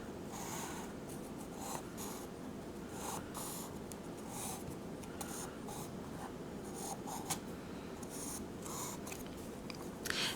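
Pencil tracing a shape onto tag paper, faint scratchy strokes in irregular bursts against quiet room tone, close and continuous with no talk.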